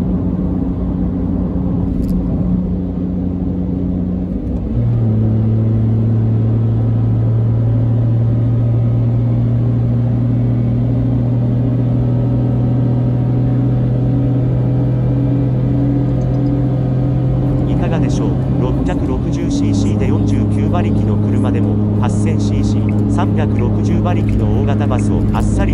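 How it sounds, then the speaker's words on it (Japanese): A car overtaking a bus on a Japanese expressway, with loud steady engine and road drone throughout. A shift in engine pitch comes partway through, and wind and turbulence noise builds toward the end. "今からバスを追い抜きます。"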